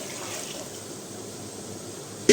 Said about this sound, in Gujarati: તો હવે દાળ નાખી દઈશું આપણે.